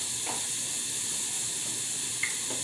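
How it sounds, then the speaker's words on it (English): Garlic searing in a hot pan, a steady close sizzle and hiss running evenly throughout with a couple of faint scrapes, no voices. "I'll sear this until you smell your garlic."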